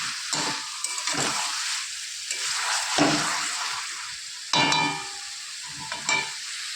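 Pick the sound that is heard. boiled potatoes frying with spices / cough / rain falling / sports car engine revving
boiled potatoes frying with spices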